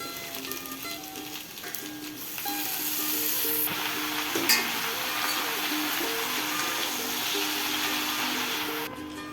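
Spinach hits a hot pan of country chicken and potato curry and sets off a steady, close hiss of sizzling that swells after the first couple of seconds and holds evenly, with a brief clatter partway through and no talking.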